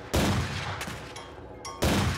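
Shots at a shooting gallery in the game Highly Likely: two loud, sharp gunshot bursts about 1.7 seconds apart, with fainter clicks and a ringing tail between them.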